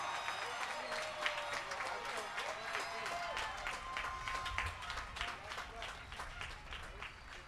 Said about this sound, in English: I would like a big, big cheer and round of applause for the class of 2021